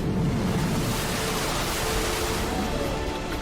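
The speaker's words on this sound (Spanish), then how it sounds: "se levantó un viento fuerte sobre ellos y el mar se agitó mucho" Strong wind and rough water on a lake make a steady, broad rushing hiss with a low churning wash underneath, constant and unbroken throughout.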